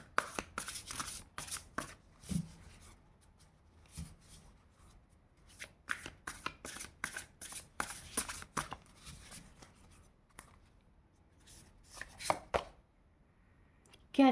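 Tarot cards shuffled by hand for a card reading, close and soft, with repeated riffling and flicking bursts in an uneven rhythm and brief pauses between them.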